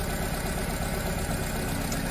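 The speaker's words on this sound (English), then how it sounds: "Injector number four, I disable it again. Nothing is happening to the engine performance." Car engine idling with its cylinder four fuel injector switched off by a scan tool, a steady close rumble with no voices.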